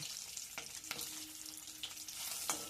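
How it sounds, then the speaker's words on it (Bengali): Egg pieces fry lightly in a pan with a steady soft sizzle, broken by a few brief stirring scrapes and clicks, close and fairly quiet throughout with nobody speaking. "তো এপিট ওপিট করে আমি ডিমটাকে একটু হালকা করে ভেজে নিই"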